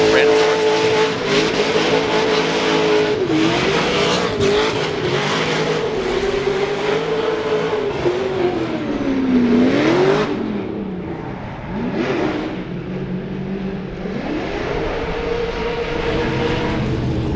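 A United States Air Force BMW drift car competing at Formula Drift Long Beach revs hard with a wavering, rising and falling engine roar and tire noise, loud and sustained, with an announcer talking over it.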